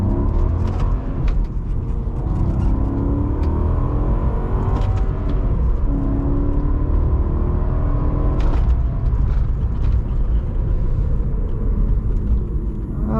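Engine of a 2006 Maserati Quattroporte with a six-speed F1 gearbox on a test drive, a steady low rumble and hum from inside the cabin, continuous and fairly loud throughout with faint clicks now and then.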